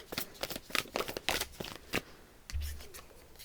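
Oracle cards shuffled by hand at close range, a run of crisp rhythmic riffling snaps and slides, followed by a soft thump and rustle as the deck settles, with no talking.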